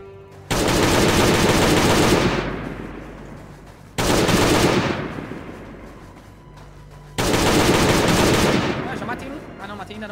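Rapid automatic gunfire hammers at a horde of zombies in the survival video game Last Day On Earth, coming in three loud, sustained bursts of a few seconds each that each fade into a ringing tail, with no talk.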